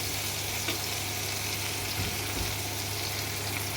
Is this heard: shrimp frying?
yes